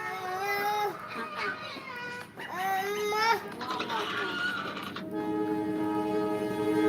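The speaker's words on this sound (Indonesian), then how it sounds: "Kereta api." A train rumbles past with a steady mechanical roar and a long tonal horn, while people talk over it nearby.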